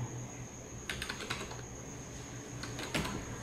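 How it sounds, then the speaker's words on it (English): Keys tapped on a computer keyboard while entering text in Illustrator, two short clusters of crisp clicks over a steady background hiss and a high whine, no voices. "So we'll just type Guru Institute of Technology."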